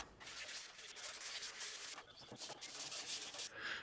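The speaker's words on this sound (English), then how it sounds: "I finished up shaping with a card scraper and some sandpaper." Pallet-wood chisel mallet being smoothed with a card scraper and sandpaper, a steady dry rubbing and scraping that runs continuously in close, even strokes with no talk.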